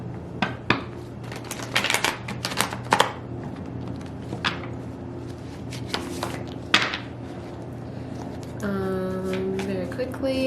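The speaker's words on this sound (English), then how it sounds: "I'm going to shuffle this once, and then I'm just going to pull from the top" A deck of tarot cards being shuffled, soft riffling and tapping bursts scattered through the stretch, with a brief voice near the end.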